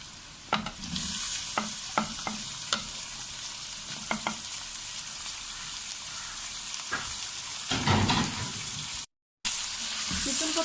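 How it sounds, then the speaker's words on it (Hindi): Chicken frying with onions in a pan, a steady loud sizzle with repeated scraping clinks of a spoon stirring, one kilo of washed chicken browning, then a brief cutoff and the sizzle resumes. "चिकन को प्याज के अंदर तकरीबन 5 से 6 मिनट तक अच्छी तरह से भूनेंगे।"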